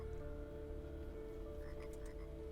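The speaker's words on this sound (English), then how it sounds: "I hear frogs." A video game scene fills with steady frog croaking, a dense repeating chorus of low ribbit-like calls running continuously at moderate level with faint chirps above.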